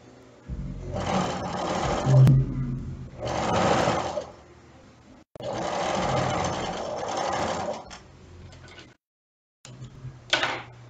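A sewing machine stitches a skirt waistband in long, steady motorised runs of a few seconds each, separated by brief pauses, with a short burst near the end; loud and close, with no talk.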